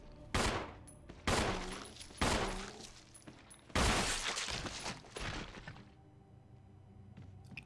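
Several loud gunshots go off in Resident Evil HD, arriving in separate bursts with short gaps between them, each one fading into a lingering tail before a quieter stretch closes things out.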